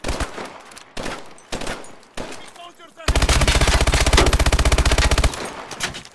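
Weapons fire in Call of Duty: Advanced Warfare on veteran difficulty: several loud, separate gunshot bursts, then a long sustained rattle of automatic machine-gun fire that tapers off near the end.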